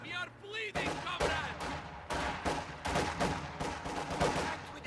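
Mortar and gunfire in a strategy video game battle: rapid bursts of gunfire and repeated sharp impact blasts in an uneven rhythm, loud and close, with a brief voice at the start.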